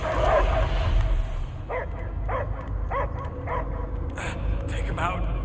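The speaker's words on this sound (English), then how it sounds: "I hear only barking" A dog barks in the Guardians of the Galaxy video game, with a run of several quick, mid-distance barks over a rumbling game soundtrack as voices speak.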